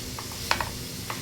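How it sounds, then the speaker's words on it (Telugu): Onions frying in a pan for a village-style dry fish curry made with bommidayala, with a faint steady sizzle under a few brief, close utensil clicks and scrapes from stirring. "నేను ఆనియన్ ఎక్కువ తీసుకుంటాను. మంచిగా ఫ్రై చేసేసుకోవాలి."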